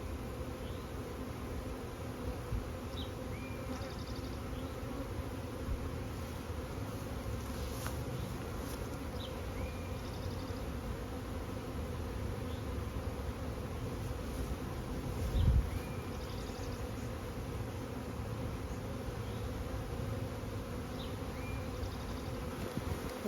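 A dense, continuous hum of a honeybee swarm buzzing close by at a hive entrance, steady throughout, with occasional individual insects passing.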